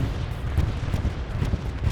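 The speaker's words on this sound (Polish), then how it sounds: "Bo tu już słyszę strzały na blisko gdzieś koło mnie." Close gunfire in a sniper-themed video game, with repeated low booms and shots arriving in a loose irregular rhythm at steady volume, with no voices.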